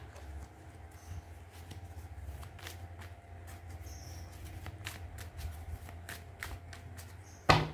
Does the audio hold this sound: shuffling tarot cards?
yes